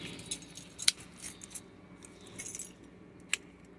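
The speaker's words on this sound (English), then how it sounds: "it came with two keys" Pair of car keys for a used FIAT 500 jangling, quiet and close, with a few sharp metallic clinks and rattles spread across a hushed room.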